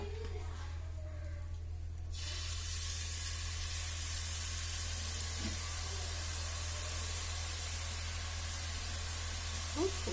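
Garlic frying in oil for a Kerala-style dried jackfruit mixture gives a steady, close hiss of sizzling that runs through the whole stretch, with a faint low hum underneath and a few soft clinks.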